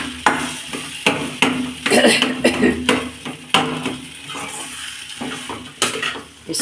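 Boiled potato being stirred and roasted in a warming kadhai: a spoon scrapes and clatters against the metal pan in uneven bursts, close up, with a soft sizzle underneath.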